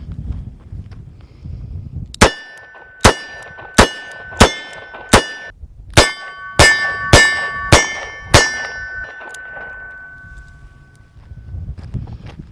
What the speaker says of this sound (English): So I'm going to shoot one cylinder first with the 642-2 offhand.